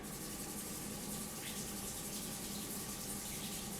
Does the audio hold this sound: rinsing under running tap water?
yes